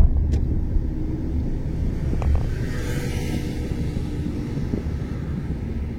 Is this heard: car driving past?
yes